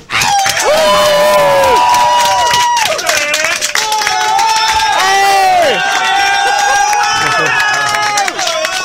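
A podcast audience claps and cheers loudly and continuously, with whoops and high shouted voices rising and falling over the crowd noise for about nine seconds.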